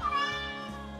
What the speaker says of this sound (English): And hopefully someday that this cat will be able to help us.